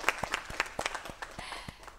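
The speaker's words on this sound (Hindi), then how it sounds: "एक बार फिर से जोरदार तालियों के साथ हम कार्यक्रम को आगे बढ़ाएंगे" Studio audience applause during a television program on yoga, heard as a short run of separate, fairly sparse hand claps at moderate distance with no talking.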